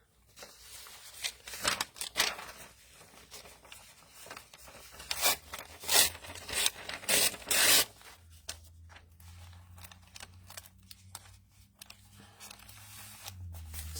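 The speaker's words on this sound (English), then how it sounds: "So I'm just going to tear some of it up, and then I can trim it after." Paper torn into pieces for a mixed media background, several close, loud ripping bursts in the first half, followed by quieter rustling and handling over a low hum.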